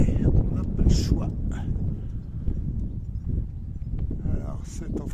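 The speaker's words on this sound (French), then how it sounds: "Désolé pour le vent les copains, mais on n'a pas le choix." Wind buffets the microphone in gusts outdoors beside an ancient amphithéâtre on a Turkish hillside, low rumbling bursts rising and falling continuously, with someone speaking French over it.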